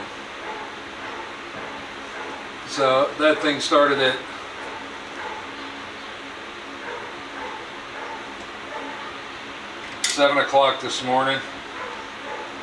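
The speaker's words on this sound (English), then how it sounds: "I'm sure you guys can hear the dog barking." A dog barks in two short bursts of several yips, clearly separated by a quiet stretch, with a person talking in between.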